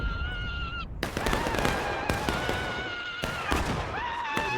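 CSA artillery fires in a Civil War video game: three loud, booming shots land about a second apart over a steady tonal background hum.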